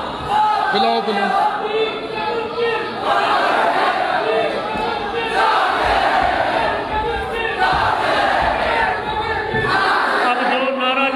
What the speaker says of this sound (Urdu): لاؤ لاؤ نعرے لاؤ